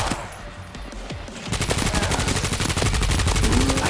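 Rapid automatic gunfire aimed at a large zombie in World War Z: Aftermath, starting after a quieter stretch of scattered noise and then a loud, dense, continuous stream of shots close by.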